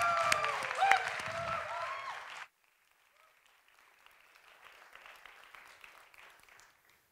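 A live audience at a science communication competition claps and cheers loudly for a couple of seconds, then the sound cuts abruptly to a faint, distant murmur.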